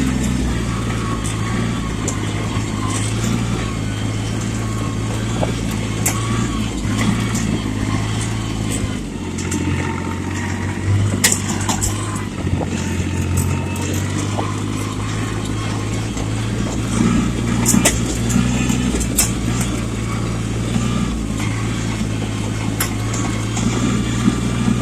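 A tractor engine runs steadily and close by, a loud low droning rumble with shifting pitch as it works, with scattered clanks and rattles over the top for the whole stretch.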